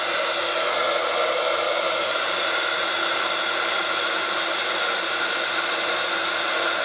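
A heat tool blows hot air to melt clear embossing powder on a stamped feather background, a loud, continuous, even fan-like roar held close and unbroken throughout.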